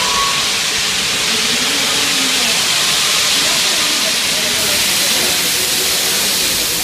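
From inside the cab, a YG-class metre-gauge steam locomotive, built in 1965 by Tata Engineering and Locomotive Company, hisses loudly as steam escapes in a continuous close roar throughout.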